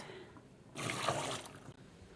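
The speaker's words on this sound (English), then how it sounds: "I'm just going to use my ladle here and fill up my jars" Hot chicken broth ladled through a funnel into canning jars: a quiet lead-in, then a close, steady liquid pour lasting under a second, tapering to drips.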